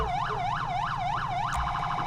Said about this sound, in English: If I hit my Alt button, left Alt, I get my siren.